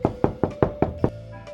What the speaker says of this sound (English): walked over to the front door, and knocked.